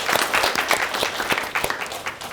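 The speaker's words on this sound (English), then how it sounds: "Let's give her another round of applause" At a community-engaged research event, an audience gives a steady round of applause, many hands clapping together at moderate volume with a few sharper individual claps standing out.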